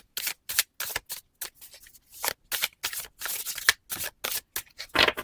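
Tarot cards being shuffled and cut, a close series of sharp riffling bursts separated by brief silences, some longer and some quick, with no speech.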